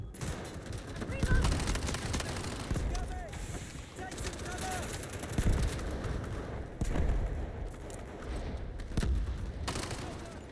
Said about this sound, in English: I'm trying out an SMG.